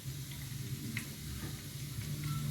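Garlic frying in oil in a pan, browning, a continuous close sizzle with light stirring scrapes and small crackles.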